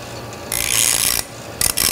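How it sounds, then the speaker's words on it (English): A buffer grinder works freshly drilled aluminum parts, removing sharp edges and oxidation with a close, harsh whirring grind that cuts in and out in short bursts. "Let's go clean them up on the buffer."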